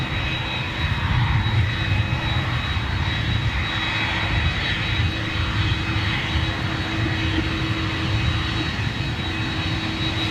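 A jet airliner with CF6 engines sounds as a loud, sustained engine roar with a steady whine layered on top, continuous and close, with no one speaking.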